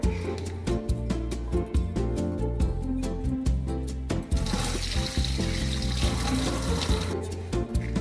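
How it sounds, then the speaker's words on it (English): Tap water runs steadily into a kitchen sink as a child washes hands, with a continuous splashing flow and occasional clicks and knocks, close and moderately quiet. "Wash your hands."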